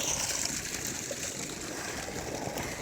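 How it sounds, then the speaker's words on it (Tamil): Water flows steadily into a field being irrigated, a continuous close hiss and trickle holding even loudness throughout with no speech. "ஸோ அந்த கேப்பில் நான் தண்ணி பாய்ச்சிட்ருக்கேன்"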